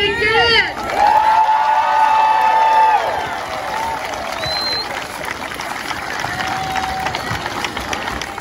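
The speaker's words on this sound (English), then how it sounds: "The 2023 Special Olympic Games started with a parade of athletes that drew a large crowd to cheer on the" A large crowd cheers at a Special Olympics parade of athletes in Floyd County, with shrill whistles and voices rising over a steady din of noise.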